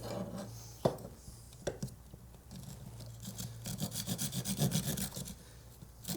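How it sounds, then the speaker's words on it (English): A hand saw cuts a protruding piece off a 3D printed plastic prop gun, a few hesitant strokes and taps followed by a quicker run of rhythmic rasping back-and-forth strokes, close and fairly quiet. "I'm going to saw it off with the saw with the new tool"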